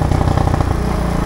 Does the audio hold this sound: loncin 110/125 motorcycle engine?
yes